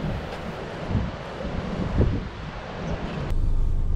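Strong gale wind gusting across a Cornwall beach, a steady loud roar with broadband buffeting against the microphone and surf noise beneath, swelling in gusts and growing louder near the end.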